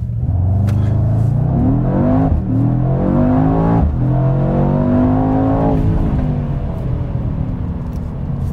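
A 2021 Mercedes-AMG E63 S Wagon accelerates hard from a standstill, its engine note climbing through rising revs with brief dips at gear changes, loud and close from inside the cabin, without talk.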